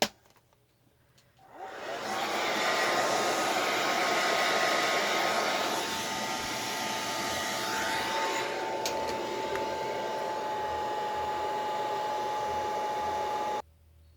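A handheld hair dryer blows on a mixed media art journal page, switching on after a brief quiet start, then running as a loud, steady whooshing drone with a slight drop in pitch midway before cutting off abruptly.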